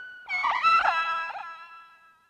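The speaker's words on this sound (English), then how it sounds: "I initially just created a bunch of these generic creature calls that sound like this" A single drawn-out generic creature call from a video game, a tonal wailing moan that rises, wavers and fades over about two seconds, heard alone.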